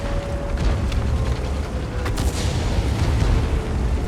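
A tank cannon shot in World of Tanks on the Lakeville map, a heavy booming blast whose rumbling roar fills the whole stretch, with a sharper crack partway through and no voices.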